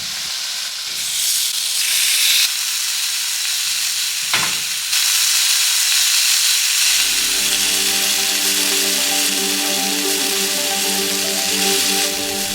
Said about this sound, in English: we're gonna get it warming up on the stove and get our bacon into it